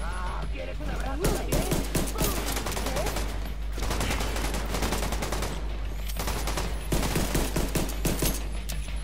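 Rapid bursts of gunfire in The Division 2 crackle through the clip, dense and loud, with a few brief pauses between volleys and some talk mixed in.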